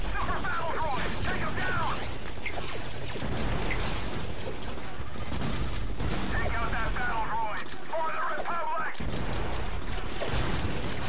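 Grenade explosions and battle noise in the game Star Wars Battlefront 2 on the Mustafar Assault map, a dense continuous roar of blasts and gunfire with talk running throughout.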